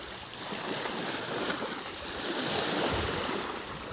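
Sea waves wash steadily along the shore beside a seaside cemetery, a continuous broad rushing surf with some wind noise, close and fairly loud, with no voices.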